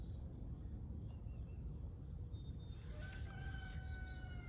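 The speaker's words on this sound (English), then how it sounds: "Is that a damn rooster?" A rooster crows somewhere outdoors, distant and faint, over a steady bed of insect and cricket chirping with no one speaking.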